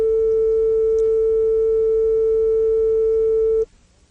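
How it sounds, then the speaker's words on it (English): A pure sine tone holds one pitch at a steady loudness for a few seconds, then cuts off abruptly, leaving near silence. "These examples show changes in amplitude for a given frequency."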